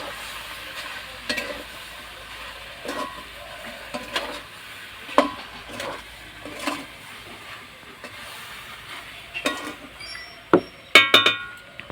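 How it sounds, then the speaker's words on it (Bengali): Sugar and jaggery stirred into elephant apple pickle in a pan, with repeated scraping strokes, a soft sizzle and a few light clinks near the end, all close and fairly quiet with no talking. "ভালোভাবে চিনি আর গুড়টা দিয়ে আমি নেড়ে নিচ্ছি"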